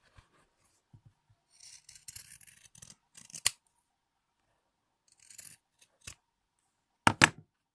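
Close scissors snip and rasp through fabric in short bursts, with a few crisp metallic clicks and pauses of near silence between cuts.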